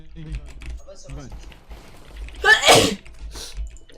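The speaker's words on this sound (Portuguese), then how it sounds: "às vezes eu vou espirrar" A man gaming at a computer lets out one loud, close sneeze midway, while keyboard typing clatters and low speech murmurs around it.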